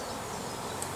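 Honey bees at a bee farm fly back toward their hive entrance in a dense, continuous buzzing drone, close and fairly faint, with no voices.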